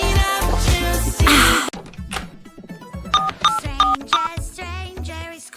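A phone rings with an incoming call: a run of bright electronic tones and beeps in an uneven pattern, following a burst of loud music.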